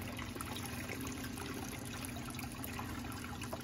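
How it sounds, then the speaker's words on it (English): Water streams and trickles out of laundry being fed through an old wringer washer, a steady, faint liquid splashing with a constant low mechanical hum beneath it. "beating this stuff through the Wringer. And it is taking the water out really well."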